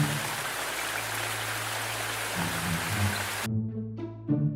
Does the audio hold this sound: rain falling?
yes